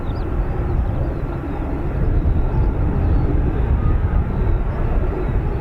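An F-35B stealth jet taxis at an air base, a broad, steady low rumble and roar that builds slightly, heard from a distance without talk.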